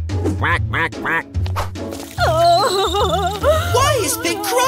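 A cartoon duck quacking, performed by a voice imitating the sound: three quick, nasal quacks in a row, then a string of longer, wobbling squawky quacks, close and loud.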